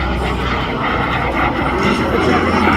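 A microjet aircraft flying a series of aileron rolls at a Southern California airshow at March ARB, its loud, steady jet roar sustained throughout with no break.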